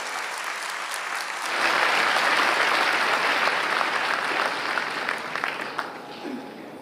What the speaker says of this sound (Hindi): बहुत जोरदार तालियां इनके लिए।